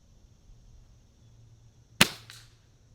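Single shot from a suppressed Gamo Magnum Pro Swarm .22 pellet air rifle: one sharp close crack with a brief trailing ring, against a quiet background.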